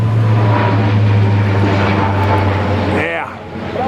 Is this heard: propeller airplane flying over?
yes